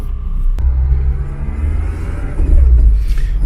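Low engine rumble of a Tofaş Kartal station wagon idling and pulling out, with a sharp click early on and the engine swelling louder toward the end.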